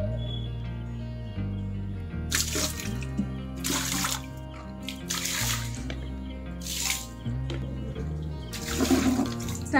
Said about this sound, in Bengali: এবার যেটা লাস্ট কাজ হলো এই বারান্দাটাকে একটু ধুয়ে দেবো।